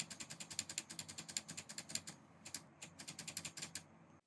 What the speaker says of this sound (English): This is what the scroll wheel button sounds like.